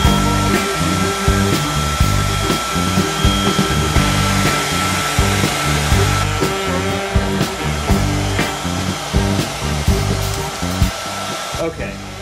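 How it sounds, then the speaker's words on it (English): A heat gun blows hot air onto a Holstex sheet being warmed slowly toward about 220 to 240 degrees; a steady, loud, close airy roar runs the whole time with a fluttering low rumble and no voices. "I'm going to turn up the heat gun and see if I can get it to heat more evenly"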